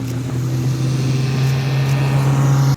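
A Peugeot Sport race car engine drones loudly at a steady high pitch as it drives past, a sustained motor whine that cuts off abruptly at the end.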